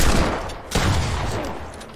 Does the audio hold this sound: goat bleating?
no